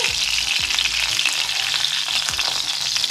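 Fried eggs pushed aside with a spatula in a sizzling pan while cooking Colombian-style bistec a caballo, a constant loud frying hiss broken by a few scraping spatula strokes.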